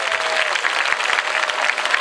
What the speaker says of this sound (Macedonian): Еден аплауз за него.